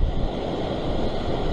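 Ocean waves surging against coastal rocks while fishing from a rock ledge near Sydney, Australia: a steady, loud, broadband wash of surf close by, with no voices.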